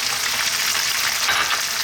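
Fresh curry leaves and onion sizzling in a hot pan over high heat for chicken curry, a dense, steady hiss of frying, close and fairly loud with no voices.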